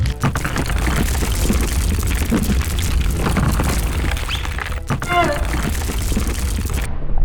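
A loud, sustained cartoon rumble and roar of a volcano eruption, dense and booming throughout, with crackling bursts before cutting off abruptly.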